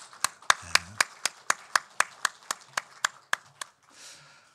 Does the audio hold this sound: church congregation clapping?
yes